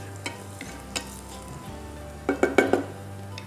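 Sautéing in a pan for veg mint biryani: a low steady sizzle with a few soft clinks of utensils, then a short burst of louder scraping and stirring near the end, with no talk.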